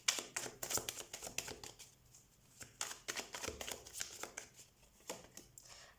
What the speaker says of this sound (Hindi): तो हम कार्ड शफल कर लेते हैं।